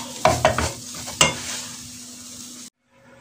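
Sugar stirred in a cooking pot over heat, a few sharp scraping strokes early on, then a steady sizzling hiss that cuts off abruptly near the end.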